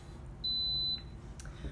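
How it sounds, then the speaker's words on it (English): An Instant Pot pressure cooker gives a single clear electronic beep, steady and about half a second long, in a quiet kitchen with a faint hum beneath it. "Once that has not been touched for 10 seconds, the pot will beep."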